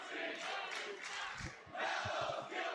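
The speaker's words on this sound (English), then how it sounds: "Crowd chanting Mello's guilty." A wrestling crowd at an NXT show chants an accusation in rhythmic bursts, a broad roar of many voices swelling and dipping over a few seconds, with thumping beats under the later phrases.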